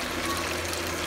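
Barbecue sauce poured onto chicken wings gives a brief, soft liquid trickle and glug, faint and close with nothing else heard.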